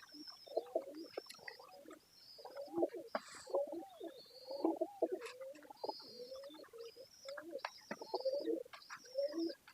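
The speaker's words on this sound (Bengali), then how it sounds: "এটা হলো নীলদম্ব কবুতর।" Blue-tailed pigeons coo in a steady series of soft, throaty rolling calls, close and fairly quiet, with faint chirps from other birds above them and no talking.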